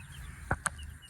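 Baby Polish chicks give two short, faint clucks or peeps close together against a quiet background.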